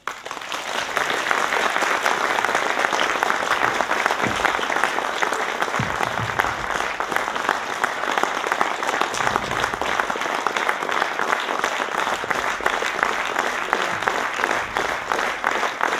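Sustained audience applause at the Sierpczanin Roku 2011 award ceremony, steady dense clapping from a hall crowd for the laureate lasting throughout, with a few low thumps underneath.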